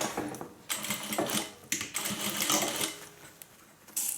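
A sewing machine runs in quick bursts, stitching to a seam and then back and forward to lock it, while sewing a hippie van; close, fairly loud whirring with brief pauses between runs.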